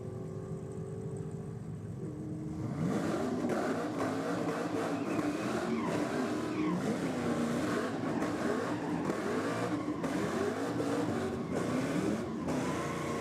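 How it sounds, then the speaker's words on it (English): A Holden VE Commodore drag car from Dialed-In Racing does a burnout at Sydney Dragway to heat its tyres, its engine revving hard and roaring loudly and continuously after a brief quieter idle. "The VE for Dialed-In Racing desperately trying to get some heat into those tyres"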